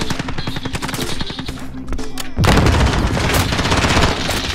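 Rapid automatic gunfire rattles in a Call of Duty-style shooter, then a grenade goes off with a heavy boom about halfway through, and loud bursts of fire continue right after the blast.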